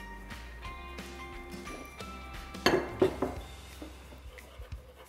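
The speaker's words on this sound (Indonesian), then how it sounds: "Aduk pakai whisk paling enak, nggak mungkin bergerindil." A whisk clatters and clinks against a bowl as instant perkedel mix is stirred with water, with a cluster of sharper metallic knocks midway over a steady tonal background.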